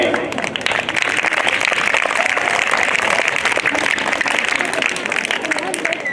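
At a school annual function in Daman, an audience claps steadily in a loud, continuous burst of applause, with voices and crowd chatter mixed in throughout.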